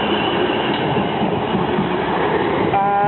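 A Class 450 electric train rolls past the level crossing at Petersfield station, a loud, close, continuous rumble of wheels on track with a rising whine near the end.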